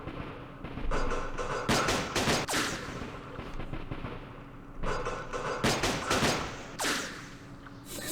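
Gunfire crackles in the Operation Starlite wargame as snipers hit a unit from both sides, loud bursts of sharp shots arriving in two clusters over a rumbling battle backdrop.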